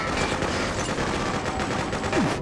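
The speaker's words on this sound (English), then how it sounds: "Okay, everyone's just shooting." Dense, rapid gunfire from soldiers in the video game Freedom Fighters crackles nonstop, loud overlapping bursts of automatic shots forming a continuous fusillade.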